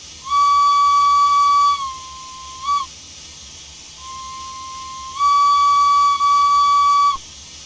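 Steam whistle of a Chaplin vertical boiler 0-4-0 locomotive in the Train Sim Classic game, two long loud shrill blasts with a shorter, lower toot between them, close and alone.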